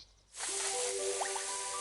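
Cartoon watering can pouring water onto a sunflower, a steady hissing splash that starts abruptly and runs on with light bubbling, quiet and alone.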